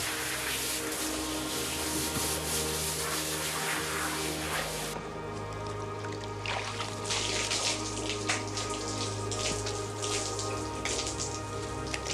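A horse being hosed down in a shower stall after exercise in winter, with a steady spray of water splashing and drumming continuously over its body at close range.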